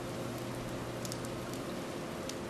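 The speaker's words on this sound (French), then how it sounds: "Il pleut." Steady rain in the video game Persona 4 Golden hisses evenly, with occasional sharper droplet ticks on top and a faint low hum beneath; no talking.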